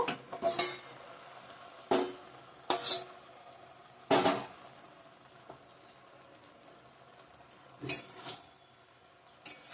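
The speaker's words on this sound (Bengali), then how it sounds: "এখন ঢাকনাটা উদল করে নিব" A metal lid comes off a cooking pot of potato, eggplant, flat beans, cabbage and dried fish, giving several sharp clanks and scrapes separated by quieter gaps, close and fairly loud with no talk.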